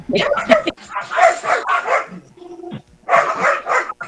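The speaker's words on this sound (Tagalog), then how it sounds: "Ay, mga aso." Dogs bark and yip repeatedly in bursts, fairly close, with a brief whine in the middle.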